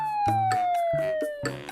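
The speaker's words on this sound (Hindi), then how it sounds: "ठीक उसी समय सायरन की आवाज के साथ पुलिस की जीप वहां आकर रुकी" A wailing police jeep siren sweeps steadily, mixed with an instrumental musical backing that thumps in beats underneath.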